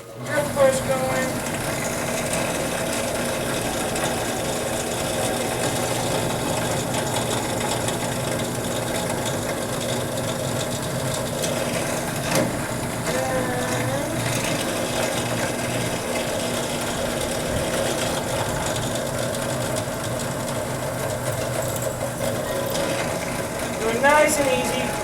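A drill press bores holes in knife steel, giving a steady motor hum and whirring drone that runs continuously at even loudness, with a few brief squeals as the bit cuts and some background talk.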